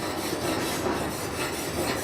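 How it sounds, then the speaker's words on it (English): A wire brush scrubs steadily across a freshly arc-welded joint, giving a continuous harsh, raspy scratching that stays close and even for the whole stretch with no talk. "So this is the wire brush which will be used to clean the joint after the welding has been"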